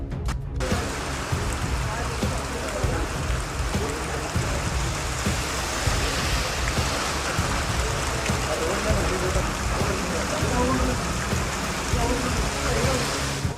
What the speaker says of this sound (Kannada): ಬೆಳಗಾವಿಯಲ್ಲಿ ಕಳೆದ 4 ದಿನಗಳಿಂದ ಸುರಿತಾ ಇರೋ ಧಾರಾಕಾರ ಮಳೆ